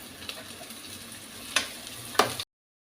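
Onion and green chillies frying in hot oil for idli tadka: a soft, steady sizzle with two sharper stirring scrapes near the end before it cuts off.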